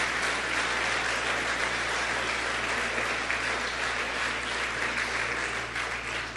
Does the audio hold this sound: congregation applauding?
yes